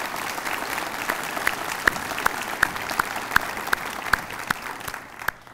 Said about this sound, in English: Would you please join me in a round of applause for our port commissioners here today?